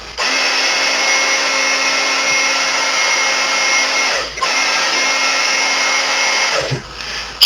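A heat gun blows a steady, loud whooshing roar while warming a Talon Grip on a Smith & Wesson SD40VE pistol, with two brief dips where the airflow falters before it resumes.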